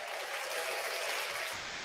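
Dense, steady applause from a crowd at a Flesh and Blood trading card game tournament, a continuous wash of many hands clapping at once, fairly loud and unbroken for nearly two seconds.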